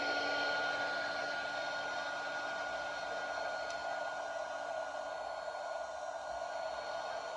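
A hair dryer blows steadily and loud at close range, drying handmade watercolour paper rose petals, an unbroken whooshing roar with a constant motor whine and no talking.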